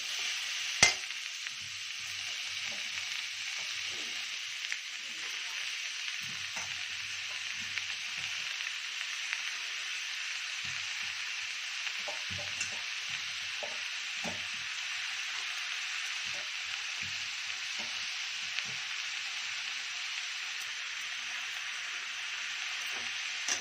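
Onion stalks fry in a pan with a steady, even hiss of sizzling oil and scattered soft stirring knocks underneath, moderately quiet and continuous.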